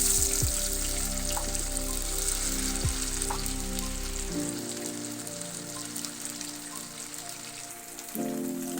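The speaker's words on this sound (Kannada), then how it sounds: "ಇವಾಗ ಎಣ್ಣೆ ಕೂಡ ಬಿಸಿ ಆಗಿದೆ ಬನ್ನಿ ಬಿಟ್ಕೊಳ್ಳೋಣ ಇವಾಗ ಒಂದೊಂದೇ ತೆಗೆದು ನಾವು ಎಣ್ಣೆ ಬಿಟ್ಕೊಳ್ಳೋಣ" Marinated fish frying in hot oil, a dense steady sizzle and crackle that fills the clip, with a few soft clunks from the pan and a low background hum; no one speaks.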